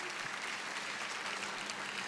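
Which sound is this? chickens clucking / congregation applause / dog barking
congregation applause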